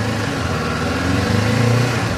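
A 2024 Kawasaki Ninja 500 motorcycle engine, warmed up, revs up close and loud in a short continuous burst with rising pitch near the end, with no one speaking.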